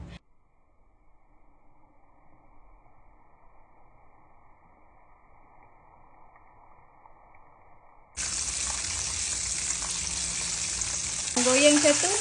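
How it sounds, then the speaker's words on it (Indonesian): Quiet low hum at first, then a loud, dense sizzle of flour-battered chicken frying in fresh cooking oil bursts in and continues steadily to the end. "Minyak goreng fresh buat goreng ayam boleh tak?"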